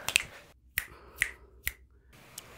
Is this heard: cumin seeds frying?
no